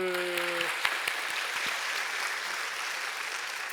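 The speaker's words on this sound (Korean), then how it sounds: "우리 하나님께 감사 박수" A church congregation at a Sunday worship service claps in thanks to God, a dense, even roar of applause filling the room after a brief tone at the start.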